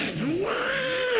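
A performer's voice mimics a cat whose meow changes when another cat arrives, on a comedy stage: a loud, rising-then-falling yowl with a whiny caterwauling quality, heard close and alone over a noisy room.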